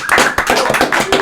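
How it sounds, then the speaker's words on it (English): Hands clapping in a podcast studio for a UK rap show, a small group's uneven, rhythmic claps repeating close and loud for a moment, with no voices over them. "Can I get a round of applause for that one?"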